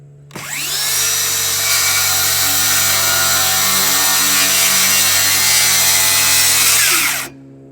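Circular saw ripping lengthwise through a wooden board, a loud sustained whining cut that starts abruptly, holds steady for about seven seconds with no talking, then cuts off as the blade exits.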